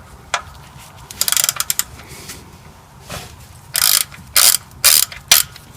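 A ratchet loosens the 14 mm oil drain plug on a Toyota Sienna with a 2GR-FE V6, giving loud, close bursts of rapid clicking pawl ticks, several short runs with brief pauses between them.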